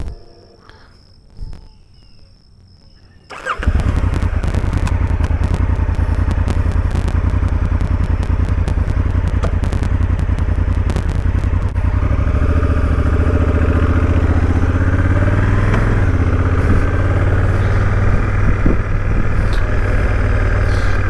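A Honda Africa Twin DCT motorcycle starts and then rides off, its engine note rising to a loud, steady rumble with wind noise and gear changes heard close up for most of the clip.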